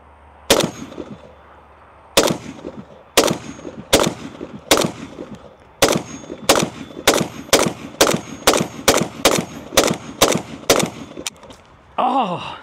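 A PSA AK Krink fires a full magazine at a steel target about 20 yards away. There are roughly seventeen sharp, loud shots: a few spaced out at first, then a quicker, irregular string with short echoing tails.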